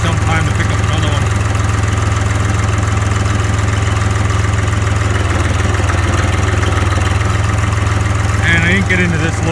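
A Case IH 395 tractor's engine idles steadily while warming up, a loud, constant low drone with even vibration filling the whole stretch and no break in the rumble.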